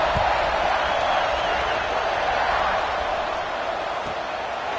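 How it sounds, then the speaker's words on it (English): Football stadium crowd at a college game between Texas A&M and Oklahoma State buzzing after a score, a dense continuous roar heard from a distance beneath a commentator's voice. "this crowd is buzzing after that last score"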